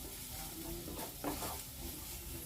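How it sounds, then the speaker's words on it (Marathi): Onion sautéing in a pan for a tender jackfruit sabzi, with a soft continuous sizzle and a light stirring scrape partway through, close and quiet. "बघा कांदा आपला मस्त असा शिजत आलेला आहे."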